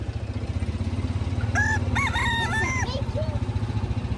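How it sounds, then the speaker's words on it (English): A rooster crows once, a rising-falling harmonic call, over a loud, steady rhythmic engine rumble from a golf cart riding through Key West, Florida. "That rooster noise."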